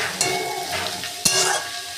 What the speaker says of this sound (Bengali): লাল শাকটা দিয়ে দিলাম, ভালো করে একটু পেঁয়াজ রসুনের সাথে মিশিয়ে নিচ্ছি।